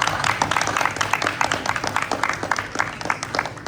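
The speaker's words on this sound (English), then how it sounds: "Give them a big round of applause" Audience applause fills the room at a high school FBLA end-of-year awards ceremony, a dense, steady clapping from many hands that carries through the whole moment at fairly close range.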